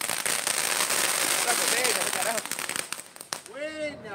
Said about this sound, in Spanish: No botas cohetes, es un volcán nada más.